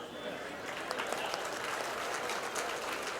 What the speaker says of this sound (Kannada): ಆದರೆ ಇದಕ್ಕೆ ಚಪ್ಪಾಳೆ ತಟ್ಟಬೇಕು